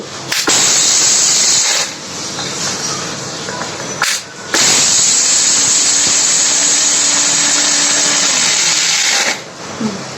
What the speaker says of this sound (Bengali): এই মশলাটা অনেক শক্ত, শুকনো মশলা, সেজন্য এটা ব্লেন্ডারে ছেড়ে ছেড়ে দিতে হবে, একাধারে দেওয়া যাবে না।